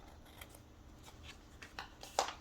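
Scissors trimming paper for a Dollar Tree spring junk journal, a few faint quiet snips spread across the moment, with one slightly louder cut near the end, no talking.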